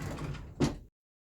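A bathroom drawer slides open with a short scraping rumble and a brief knock as it stops, close by and alone before silence.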